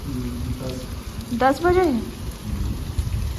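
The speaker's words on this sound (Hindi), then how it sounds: "अचानक से एकदम चालू हुई बारिश।" Sudden rain pouring at an outdoor vegetable market, a steady hiss throughout with voices talking over it and a brief tonal call in the middle.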